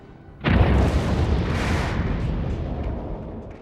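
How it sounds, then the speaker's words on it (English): A sudden booming explosion from the 1991 film Star Trek VI: The Undiscovered Country bursts in, loud and deep, then rolls into a long rumbling decay. "Holy explosion. Something clearly blew up."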